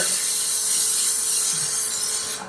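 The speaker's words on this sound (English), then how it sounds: "what you can do is just hit it with a blast of air" Spray gun fired at half trigger sends a steady hiss of compressed air across wet lacquer, loud and close, holding evenly for over two seconds before tapering off at the end.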